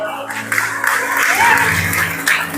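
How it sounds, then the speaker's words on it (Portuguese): Applause breaks out during a Portuguese-language church service and runs for a few seconds, mixing with crowd noise and a voice speaking over it. "Aplaude a Jesus"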